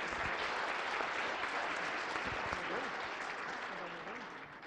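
Loud, sustained applause from an audience at a Brazilian tech and mobile talk, a dense wash of clapping that holds steady for several seconds and eases slightly toward the end.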